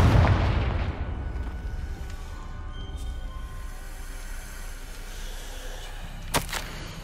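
A Confringo spell bursts in Hogwarts Legacy with a loud, low, rumbling blast at the start that fades into a long, hollow decay, followed by a few faint crackles and a short, sharp snap near the end.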